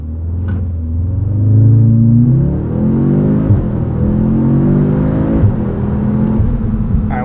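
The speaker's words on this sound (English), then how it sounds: "we have to test out launch control at some point here" A 2025 Audi S3 accelerates hard from a standstill under launch control, its engine note rising through a loud, close, continuous pull with a brief gear change and no talking.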